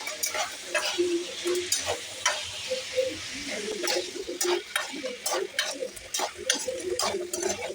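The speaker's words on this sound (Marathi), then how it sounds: "त्याला व्यवस्थित परतून घेऊया" Crabs stirring and sautéing in a pan, with a steady sizzle broken by scraping strokes of a spatula, close and moderately loud.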